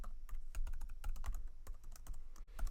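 Rapid typing on a computer keyboard while coding in a Jupyter notebook, with quick irregular clicks and clacks, close and clear, with no talk.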